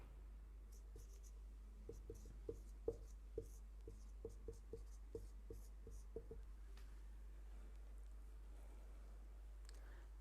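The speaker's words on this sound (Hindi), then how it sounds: "यहाँ से लिखना प्रारंभ करेंगे" Chalk or marker strokes on a board during a Hindi-language science lesson on motion, a run of short, light scratching taps in quick uneven rhythm, close and fairly faint over a steady low hum, with no talk.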